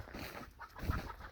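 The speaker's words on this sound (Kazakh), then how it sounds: "Тауықтар шығар жерді, далада жүр." Chickens cluck briefly outdoors on a rural farm in winter, a few short close calls over low background noise.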